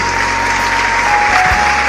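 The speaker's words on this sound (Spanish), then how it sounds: "Denle un fuerte aplauso al Rey de Reyes." A church congregation applauds in a dense, loud, continuous wash of clapping, with a faint voice and a low hum beneath it.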